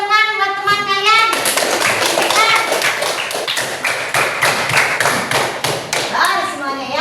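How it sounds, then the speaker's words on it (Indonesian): A class of fifth-grade primary school children applauds a classmate in a religious education lesson, with brisk, loud hand clapping that fills the room alongside children's voices and chatter. "Dan kasih tepuk tangan buat teman kalian."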